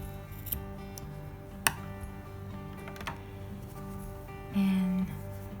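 Scissors snip crochet yarn with one crisp, close cut amid quiet room tone and a few small clicks, followed shortly after by a short steady beep.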